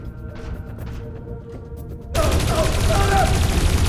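Video game gunfire in Dreamfall Chapters erupts suddenly after a quiet stretch, a dense, loud volley of rapid shots that continues to the end.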